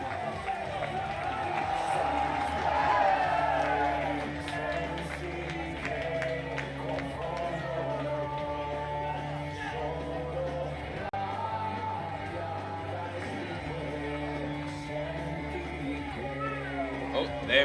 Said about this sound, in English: you can hear this incredible crowd here in Rome